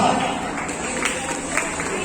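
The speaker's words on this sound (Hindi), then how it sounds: "जोरदार तालियों से इनका अभिनंदन करते रहे।" Guests at a wedding clap together in a dense, continuous patter, with a voice briefly audible over the applause at the start.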